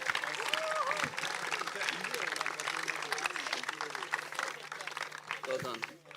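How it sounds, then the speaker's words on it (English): Audience at a football club's season presentation evening claps steadily for about six seconds, a dense wash of applause with voices and cheers mixed in, fading slightly at the end. "Give them both a round of applause"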